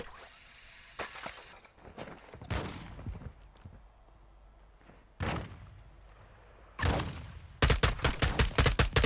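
Video-game gunfire in a live-streamed shooter: scattered single shots and short bursts, then a rapid closing volley of shots, loud against quiet gaps with no talk.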